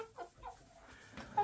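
Hens clucking near a waterer they keep perching on, several short, close calls in a loose, uneven rhythm with a sharper squawk near the end.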